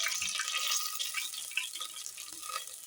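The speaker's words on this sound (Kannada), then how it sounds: "ಇವಾಗ ಒಂದು ಕುಕ್ಕರಿಗೆ ಎಣ್ಣೆ ಹಾಕೊಂಡಿದ್ದೀನಿ, ಸ್ವಲ್ಪ ಸಾಸಿವೆ ಹಾಕ್ತಿದ್ದೀನಿ." Mustard seeds splutter in hot oil inside a pressure cooker, a bright, continuous crackling hiss with scattered pops, close and steady throughout.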